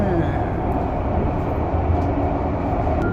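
Tel Aviv light rail train running through an underground tunnel, a steady loud rumble and rolling roar that fills the whole stretch without pause.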